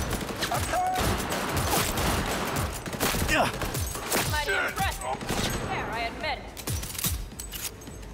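Rapid SMG fire in Cyberpunk 2077, dense bursts of shots and clattering mechanisms running the whole way through, loud and close, with a voice talking over the gunfire.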